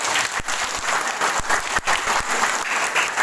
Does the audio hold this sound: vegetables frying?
no